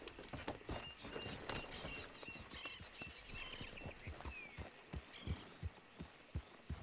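Horse hooves clip-clop steadily in Red Dead Redemption 2, a regular trotting rhythm of distinct thuds close by over faint ambient game sounds.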